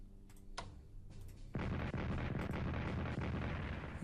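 Artillery fire in Strategic Command: World at War thunders in after a couple of quiet clicks, a sustained rumbling barrage of booms filling the rest of the moment, faint overall.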